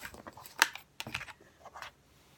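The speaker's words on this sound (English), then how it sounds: "I use my ruler just to make sure my lines are straight when I cut with my rotary cutter." A rotary cutter slicing fabric along a ruler on a cutting mat while sewing a table runner, producing a few short crisp scraping strokes with brief pauses between them, close and moderately quiet.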